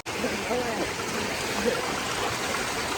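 Floodwater rushes through a flooded paddy field with a steady, close, noisy flowing sound, and a voice speaks briefly over it.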